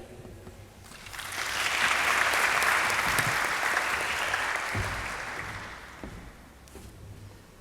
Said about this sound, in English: Can we just give a round of applause again to our media communications manager, Mr. Bada.